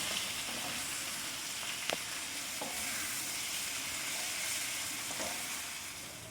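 Chicken pieces frying in a pan: a loud, continuous sizzle close by, with a few faint clinks as the pieces are turned.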